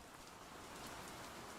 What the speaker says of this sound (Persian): بیرون داره بارون میاد.